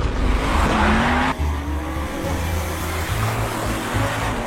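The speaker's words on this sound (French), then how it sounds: "il drift à quelques centimètres du vide" A car drifts in a Gymkhana run, its engine roaring close and loud while the tires squeal steadily, and the revs drop and rise again partway through.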